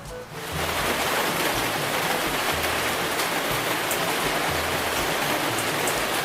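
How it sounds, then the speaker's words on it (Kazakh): Heavy rain pours down steadily in a Roblox Brookhaven city scene, a dense, continuous hiss with a low rumbling wash that swells in after a brief quiet start and then holds loud and even. "Қаламызда аяқ асты қатты жаңбыр жауып, дауыл соғып, бізде қаланы су басып кетті."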